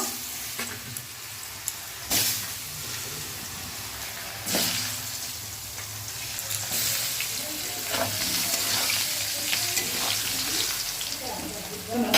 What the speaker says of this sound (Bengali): এদিকে একটু কালো জিরে ফোড়ন দিয়ে দিলাম তেলে